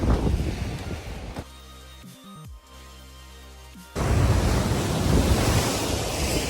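Ocean surf rolls onto a black-sand beach at Raglan, New Zealand, with loud washing waves and wind rumble that drop away for a couple of seconds in the middle and then surge back strongly.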